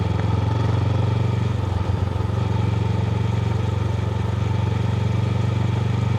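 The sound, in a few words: Honda CB500X motorcycle riding on a dirt road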